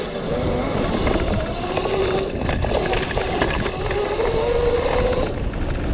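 Razor SX500 electric motorbike running on a 76-volt motor kit at half power, about 5,000 watts, giving a steady, close, loud mechanical whir and drone that holds evenly throughout with no voices.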